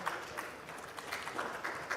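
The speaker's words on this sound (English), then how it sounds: "Let's have a nice round of applause." At a panel discussion, an audience gives faint, distant applause for a speaker called to the stage, a soft continuous patter of clapping with slight swells.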